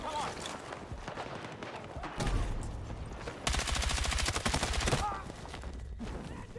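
Bursts of automatic RPK machine-gun fire in the video game Battlefield 6, a dense rapid rattle lasting over a second amid other game noise and distant shots.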